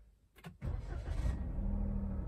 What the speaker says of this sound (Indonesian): Saya coba nyalain motor ya,